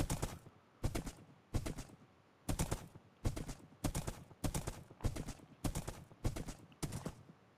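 Horse hooves clopping in Minecraft, a steady run of about a dozen sharp, evenly spaced hoofbeats, loud and close, with no voices over them.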